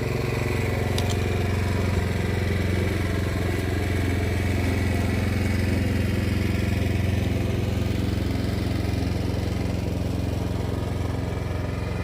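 A grass cutter mowing grass, a loud, steady engine drone running throughout without letup.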